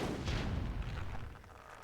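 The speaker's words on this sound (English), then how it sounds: "this tree's getting exploded" A tree blowing up in Myth II: Soulblighter, a loud booming blast with a sustained rumbling roar that fades over a second or two, then a sharp new impact at the very end.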